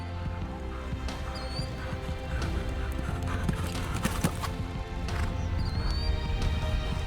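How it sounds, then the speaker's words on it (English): Rhythmic hoofbeats of an eventing horse galloping and jumping, steady and fairly close, over a busy outdoor background with occasional faint whistle-like tones, at the 2014 Rolex Kentucky Three-Day Event. "This horse is jumping really well."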